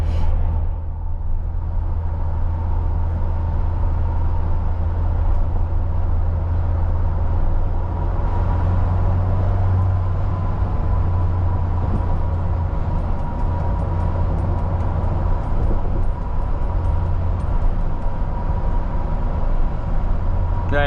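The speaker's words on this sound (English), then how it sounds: "there's a lot of wind noise in this" Wind roars as a steady broadband rush inside the cabin of a 2021 Ford Bronco Badlands with a 7-speed manual while it drives. The noise is loud and constant throughout, and no one speaks.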